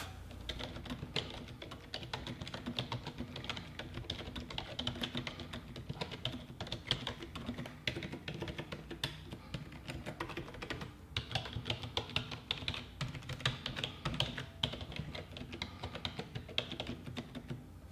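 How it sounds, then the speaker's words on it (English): Typing test on a Logitech K235 wireless keyboard: a steady, continuous stream of quiet key clicks at a brisk, even pace, close and soft, with no voices. "Here's the typing test for the K235."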